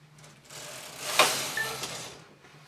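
A domestic knitting machine carriage knits a row of a crescent-shaped bactus shawl, giving one brief mechanical clatter and ratcheting sweep that peaks mid-clip, close and moderately quiet, with no talk.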